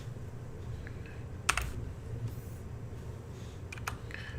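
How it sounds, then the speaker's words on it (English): Loud computer keyboard being typed on up close, a quick scatter of sharp clacks and clicks over a steady low room hum, with no talking. "my loud ass keyboard"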